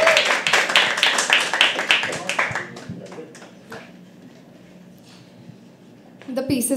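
Audience clapping and cheering at a live poetry open mic, a burst of loud, dense applause that thins out and fades to near quiet, with a brief stir of sound returning at the end.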